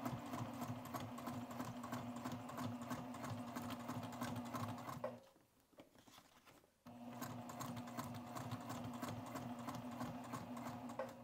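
A sewing machine runs slowly and steadily while stitching a foldover bag, with one brief stop of about two seconds midway before the stitching resumes; the machine is close and nobody talks.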